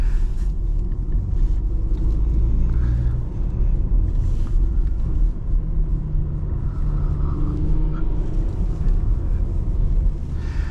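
A 2015 Porsche Macan Turbo in sport mode driving along, its engine and exhaust a deep, steady rumble heard from inside the cabin, with low burbles swelling now and then.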